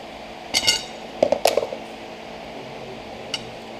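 A Tapepro extendable drywall handle grip is wiggled and checked for play, producing a few small metallic clicks and clinks close by in a quiet room, with one faint tick after a pause.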